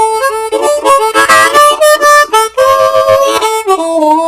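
A blues harp rips through a short lick at normal tempo, punchy chords and bent single notes in quick bursts, loud and up close with no voices.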